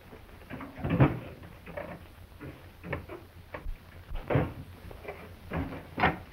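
A drawer being opened and rummaged through, scattered wooden knocks and rattles at close range, with no talking.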